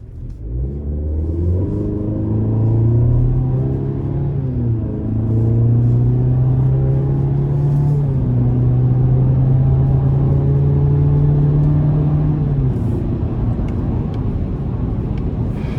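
A 2025 GMC Canyon Elevation pickup with the 2.7-liter Turbo Max engine pulls hard under acceleration. Loud, close engine drone climbs steadily in pitch through the gears over about fifteen seconds, with a brief dip partway through.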